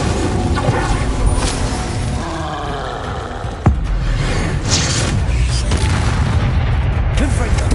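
Incendio fire spell cast in the Hogwarts Legacy video game, a roaring whoosh of flame with a sharp boom near the middle, among other spell effects and rumbles at a loud, steady level.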